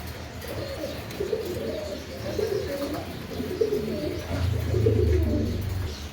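Butterfly pigeons coo nearby in soft, repeated throaty calls, with a deeper, louder cooing swell toward the end.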